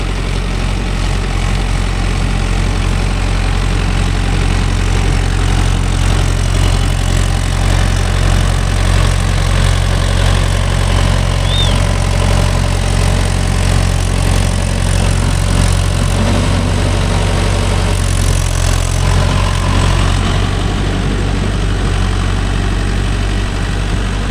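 A Mahindra Yuvo Tech Plus 585 4WD tractor pulling a 42-blade rotavator through a field: a steady, loud, low diesel drone with constant mechanical rumble throughout, no talk.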